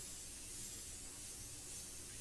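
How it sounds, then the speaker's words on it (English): An airbrush sprays India ink in a steady, even hiss that stays constant and close throughout, with no voices. "I always spray away from the paper shield"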